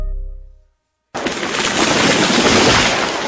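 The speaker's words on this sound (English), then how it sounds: "That was the sound of a tree falling." A tree comes down with a loud, sustained crackling crash of splintering wood and branches, breaking in abruptly after a brief low rumble and a moment of silence, with no voices.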